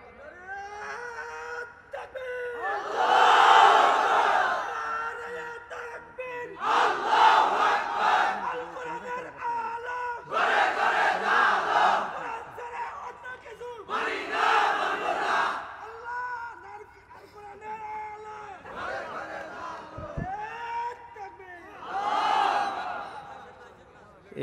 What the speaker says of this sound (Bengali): একজন একেবারে বীরের মতো তাগড়া যুবকের মতো আল্লাহর নামে একটু স্লোগান দেন তো দেখি।